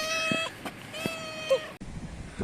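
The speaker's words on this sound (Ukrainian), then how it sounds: "Кошечка, привет, кошечка." A cat meows at close range near an old abandoned building, two drawn-out tonal meows followed by a shorter chirp, with a few faint light sounds between them.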